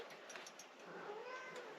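A pet cat in a quiet room lets out a soft, faint meow, brief and close, with a little low background noise.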